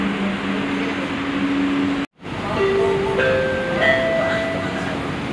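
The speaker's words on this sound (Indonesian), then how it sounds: "kita udah berangkat dari stasiun Harjamukti ya, Princess." Steady rumble of an LRT Jabodebek Cibubur Line light rail train departing Harjamukti station, with rising electric motor tones and a brief drop in sound partway through.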